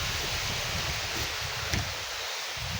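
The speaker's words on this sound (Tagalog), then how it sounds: "Lalong lumakas yung hangin" Strong wind roars steadily and buffets the microphone, with rustling noise throughout and no voices.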